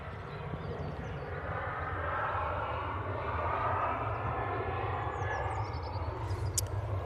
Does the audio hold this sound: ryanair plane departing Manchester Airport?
yes